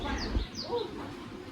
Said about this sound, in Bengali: দেখো ওখানে কতগুলো পাখি